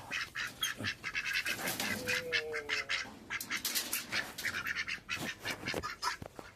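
Ducks being herded through a gate quack repeatedly in irregular, overlapping bursts, fairly close by, with no talking.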